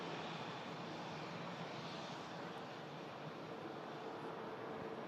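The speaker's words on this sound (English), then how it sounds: "Got this Ryanair touching down." Ryanair airliner touching down, a faint, distant broadband jet roar that holds steady throughout with no talk.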